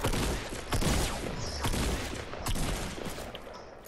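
Gunfire in Fortnite rattles in quick successive bursts, dense and continuous over a few seconds, fairly quiet overall with no talk.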